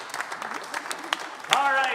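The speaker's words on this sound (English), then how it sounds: "give a round of applause for everyone who came up" Improv show audience clapping after a scene, scattered sharp claps and cheering that swell toward the end, with voices mixed in.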